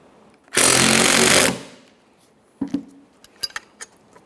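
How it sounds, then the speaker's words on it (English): A socket tightens 15mm mounting bolts on the rear upper control arm of a 2007-2017 Jeep Patriot: one loud, steady one-second burst of driving, then a few light metallic clinks nearby. "we'll tighten the bolts with a socket"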